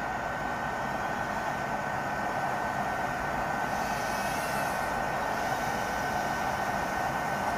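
An 85mm 1S digital micro drone in flight produces a constant, even high-pitched buzzing whir with a hissing edge that stays steady and close, with no talk.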